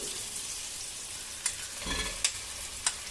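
Crushed shallots, green chillies and onion sauté for a Kerala-style chicken curry, a soft steady sizzle in the pan broken by three sharp utensil knocks near the end.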